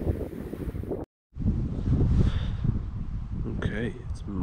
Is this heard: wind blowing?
yes